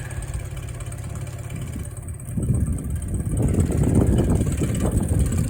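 A Yamaha 9.9 High Thrust outboard motor runs steadily at idle, a loud continuous low rumble that grows somewhat fuller partway through, heard alone without talk.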